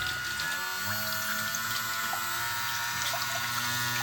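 A small 3D-printed water jet boat pump runs in water during a flotation test, making a steady high electric whine with tonal motor harmonics over a watery, bubbling wash, close and continuous.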